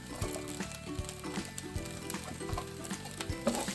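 Shallots, Asian vegetables and chili sizzle steadily in a hot pan, with scraping stirring strokes and a faint tonal hum underneath.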